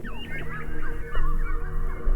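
Birds calling in a park, with honking goose-like calls and higher squawks repeating over steady background noise, fairly close and continuous throughout.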